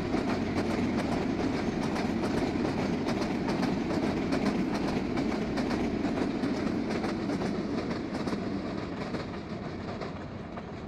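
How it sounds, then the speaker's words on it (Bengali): A long train rolls past right beside a house, heard from the rooftop as a steady, loud rumble with clickety-clack wheel rhythm that eases slightly toward the end. "ছাদ থেকে আমি ট্রেন যাওয়ার দৃশ্যটা আমি ক্যামেরা বন্দি করলাম"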